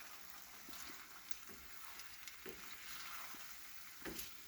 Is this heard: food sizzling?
yes